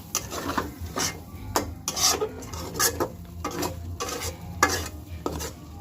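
Catla fish head cooking with Malabar spinach seeds in a pan, heard as repeated scraping stirs and rasping rubs of a utensil against the pot over a low sizzle, rhythmic and close, with no talking.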